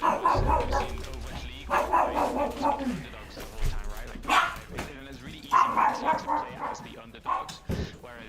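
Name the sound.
dog barking, wanting to leave the room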